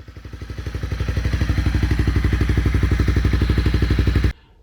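Honda CRF250 Rally motorcycle engine with a newly fitted CBR 250/300 clutch idling up close, a steady loud pulsing putter that builds for a moment then cuts off abruptly.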